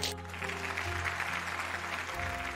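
An audience claps loudly for Rai at a stage event, a brief burst of applause over a low musical backing that lasts a couple of seconds.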